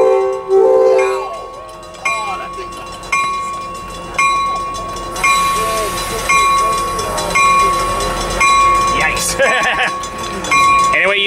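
Passenger train, locomotive 2304, pulling out of Carlsbad Village station with a rhythmic clanging crossing bell, a steady engine rumble and wheel noise building, loud and close, with brief voices mixed in.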